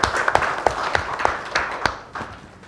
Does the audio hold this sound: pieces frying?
no